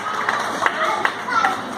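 Scattered audience clapping at a school annual day prize-giving, brief and moderately close, with a few sharper individual claps standing out.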